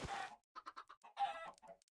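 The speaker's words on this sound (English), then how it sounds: "The chickens are grown. The chickens are breeding." Chickens in the video game Minecraft cluck in a quick series of short, close, clean calls with brief gaps between them.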